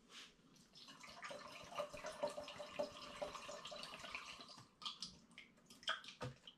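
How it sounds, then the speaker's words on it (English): Coconut water pours into a fermentation vessel in a quiet, close trickle and splash that swells and fades, with a few louder gurgles and drips near the end. "I'll get another litre of coconut water in there"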